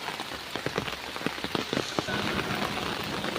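Rain falls steadily on a hard surface, with scattered louder drips and splashes standing out from the constant patter.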